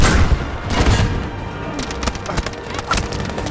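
Gunfire in the Battlefield V video game, loud rapid bursts of shots and cracks close by, continuing without pause.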